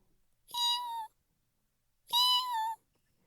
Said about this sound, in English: we heard the world's tiniest, quietest meow